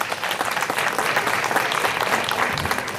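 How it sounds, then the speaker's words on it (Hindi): Steady, dense applause from an audience fills the hall at a district-level school talent search award ceremony, loud and continuous with no talk over it. "जोरदार तालियां हो जाएं।"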